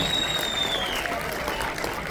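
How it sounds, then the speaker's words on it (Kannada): An audience at a film teaser launch event breaks into sustained applause, with dense, even clapping at close range that carries through the whole moment and tapers slightly at the end. "ಜೋರ್ ಚಪ್ಪಾಳೆ ಬರಬೇಕು"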